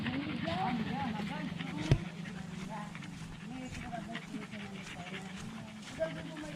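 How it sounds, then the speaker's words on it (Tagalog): Tokyo, a dog on Dampalitan island, pants rapidly and thirstily after running, the steady breathy rhythm close by with people talking over it. "Hingal ka na, hindi ka pa uminom ng tubig."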